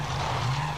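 A rally car engine revs hard and steady through a corner at the 2009 Rally Wairarapa, a loud sustained drone with a faint tire squeal under it.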